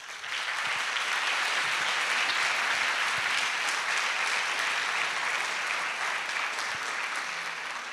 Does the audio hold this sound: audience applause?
yes